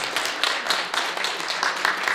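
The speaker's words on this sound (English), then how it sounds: "Yes, please applaud." A church congregation applauds with dense, steady clapping, many hands at once, continuous and moderately loud throughout.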